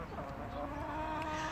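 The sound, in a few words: red chickens clucking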